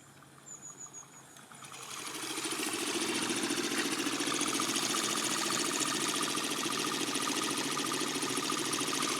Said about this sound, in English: Ever seen a Stirling engine powered bike before?